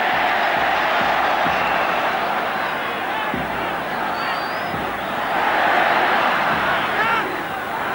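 A packed stadium crowd at a 1987 Argentina versus West Germany football friendly roars steadily in celebration, a dense, loud, continuous wall of cheering and chanting that swells slightly toward the end.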